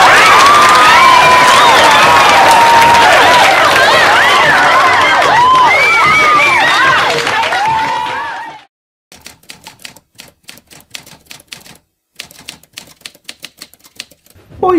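Loud close cheering and shouting with clapping from an excited carnival-themed crowd, high squeals and whoops for about eight seconds, then cutting to sparse scattered claps with gaps of silence.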